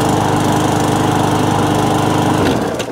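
A lawnmower engine runs close and loud with a rough, slightly hunting drone, then drops off toward the end.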